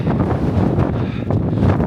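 Strong, cold wind buffets the microphone at the summit of Mount Fuji, a loud, continuous rumbling roar with gusty surges and no voices.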